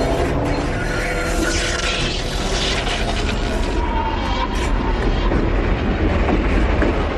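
An out-of-service subway train rolls along the tracks at night, a loud continuous rumble with rattling clatter and rhythmic wheel clicks heard from inside the car, no talk.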